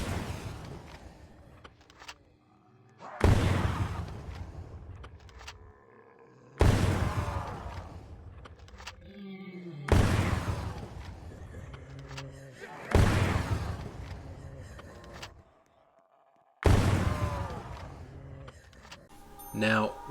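A Carl-Gustaf M2 recoilless rifle in a Roblox shooter fires five times at even intervals, each a loud booming blast with a long rumbling tail, and a metallic reload clatter between shots.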